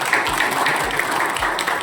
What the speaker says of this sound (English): So we all need to give a good round of applause to Dr.